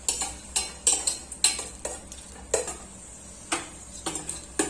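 Cashews, almonds and raisins fry in ghee in a pan, with a steady sizzle broken by repeated sharp scrapes and clinks of a stirring spoon.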